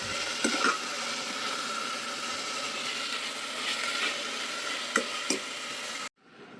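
Food for sheera fries and gets stirred in a pan in a home kitchen, a steady loud sizzle with scraping strokes of the spoon. It runs continuously before cutting off abruptly near the end.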